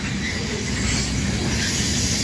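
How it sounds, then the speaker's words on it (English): A CSX loaded ethanol train led by a CN EMD SD70M-2 locomotive rumbles past in a continuous broad roar of wheels and rail noise, loud and steady throughout, with no talking. "B773 loaded ethanol train going from Chicago,"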